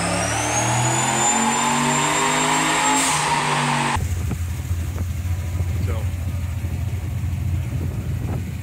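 An LSX turbo 2500 truck making 650 horsepower at the tire revs hard with a loud rising whine and roar. The engine then drops abruptly to a lower, rougher drone with occasional thumps.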